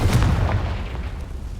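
Confringo fire spell blast from Hogwarts Legacy cast at dry vines, a loud booming burst up front that rumbles and fades over about a second and a half.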